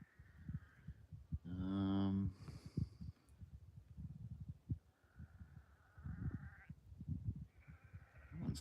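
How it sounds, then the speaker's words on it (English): Sheep bleating outdoors in a rural setting with crows and butcherbirds nearby, one loud, wavering bleat up close amid rustling and other distant animal calls, with quieter bleats following. "And their bleats just go for miles."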